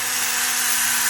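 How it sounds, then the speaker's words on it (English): A small Ryobi drill driving 3x10 button head bolts, a steady high-pitched whirring whine held constant and close for the whole moment. "So we'll break out the smaller drill this time, little Ryobi"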